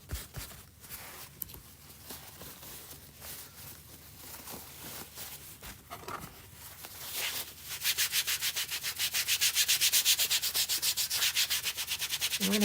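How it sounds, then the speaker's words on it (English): Chalk rubbed and buffed briskly across a surface with steady pressure, a dry scratchy scrubbing that grows louder and more rhythmic toward the end, with fast back-and-forth strokes, close up and alone. "Just kind of rub it quickly with a little bit of pressure."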